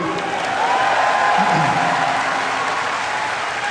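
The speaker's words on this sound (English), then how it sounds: "And go ahead and clap, it's all great." Large convention crowd clapping at the BlizzCon 2009 opening ceremony, a steady, dense wash of applause filling the hall with a faint voice briefly audible underneath.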